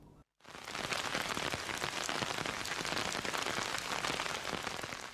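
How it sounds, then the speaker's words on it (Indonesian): Heavy rain pours onto Kuta Beach in Bali, a dense, loud, continuous patter that begins after a brief gap and holds steady throughout, with no voices. "wilayah Badung diguyur hujan deras termasuk di kawasan Kuta"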